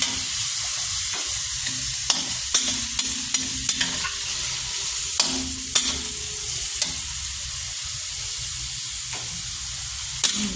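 Cabbage stir-fries with carrots and corn in a steady, loud sizzle, broken by repeated sharp clicks and scrapes of a utensil tossing the vegetables in the pan.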